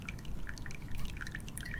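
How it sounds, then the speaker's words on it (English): Water drips through an aquaponics siphon tube in a rapid, irregular patter of small, close, liquid plinks, heard alone. "water will flow through the tube"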